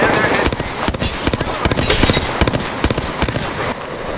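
Rapid automatic gunfire from a squad-based battle royale shooter, dense bursts of shots rattling continuously and loud up close, with a voice talking over the action.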